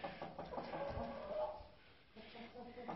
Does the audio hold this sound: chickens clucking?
yes